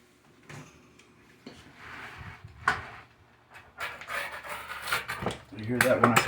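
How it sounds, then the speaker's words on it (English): Crispy homemade pizza crust being sliced with a pizza cutter, giving brief crunchy cracks that grow louder and denser toward the end, close up, with faint kitchen clatter in the background. "You hear that when I cut it?"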